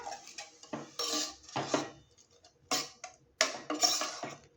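A spoon scrapes and clanks against the metal walls of a pressure cooker while masala paste of tomato and onion is mixed in, producing sharp irregular knocks and rattles in bursts with quiet gaps.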